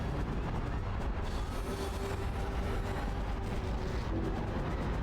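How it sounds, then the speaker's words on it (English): Supply train pulling in within the video game Robot Alchemic Drive, a steady loud rumble of rolling rail cars with a faint squealing tone over dense broadband noise, continuous throughout. "The supply train has arrived."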